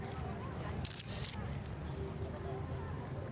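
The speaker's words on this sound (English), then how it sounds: "The loud clicking sound of a camera shutter." Single camera shutter click from the visual novel Chaos;Head, a brief sharp snap sitting over a low, steady background hum.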